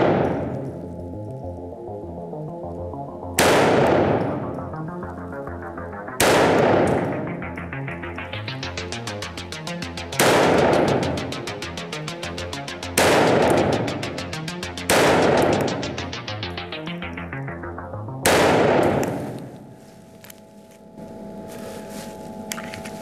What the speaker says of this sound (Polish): Jeszcze jeden strzał powinien być.